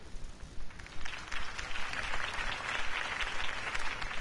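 Crowd applause in a Batman video game fills the space, a dense, steady clapping at moderate distance without a break.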